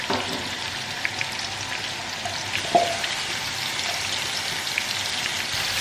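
Crushed garlic, ginger and chili frying in a pan, giving a steady, soft crackling sizzle throughout with one small pop in the middle, close and moderately quiet.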